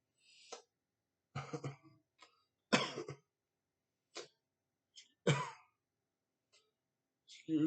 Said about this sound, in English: just having a little cough spell there.